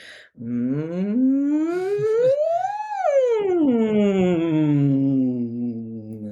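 A single voice glides smoothly upward to a high peak and then slides back down, imitating a wailing siren.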